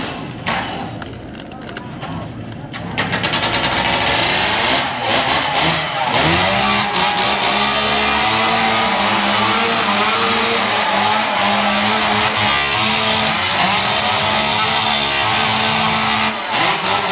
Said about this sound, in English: These saws are super loud, super powered, and come with a lot of noise.